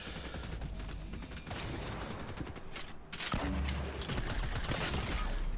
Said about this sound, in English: I literally missed every SMG shot